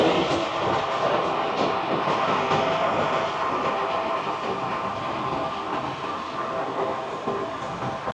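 A Kuala Lumpur MRT train runs at speed, heard from inside as a steady, loud rumble with a hissing wash and faint rhythmic rail clatter throughout, no talking.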